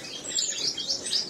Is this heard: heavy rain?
no